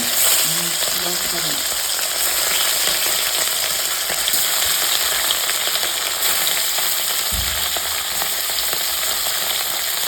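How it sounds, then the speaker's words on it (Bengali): Steady, loud sizzling of fish frying in hot oil, a continuous crackling hiss with a brief low thump partway through. "তেল গরম হয়ে গেছে আর মাছটা দিয়ে দেবো ভাজা"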